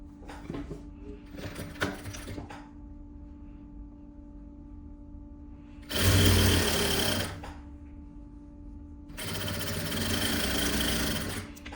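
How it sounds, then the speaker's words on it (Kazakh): A sewing machine stitches the back yoke seam of a vest in two loud, close bursts of rapid whirring, with quieter handling and fabric rustle between them. "Артқы ойдың басқасын тура белінен 2-1 сантиметрлік тігіспен қосып тігіп аламыз."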